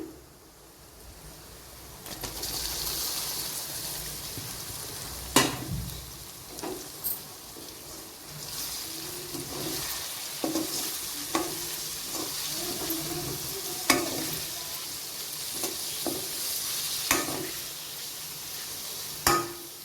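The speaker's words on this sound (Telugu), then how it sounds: "ఇలా కొంచెంసేపు గోలనిద్దాం నూనెలో మంచిగా గోలనివ్వాలి దీన్ని" Chopped vegetables with turmeric fry in oil in a pan with a quiet, steady sizzle, broken now and then by scraping stirs and sharp clinks, close up.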